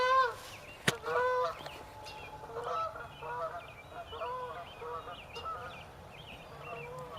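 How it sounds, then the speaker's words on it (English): Geese and other fowl honk and call repeatedly at a bird sanctuary, a busy overlapping chorus of nasal cries with a sharp knock near the start, moderately near. "This is a bird sanctuary, by the way."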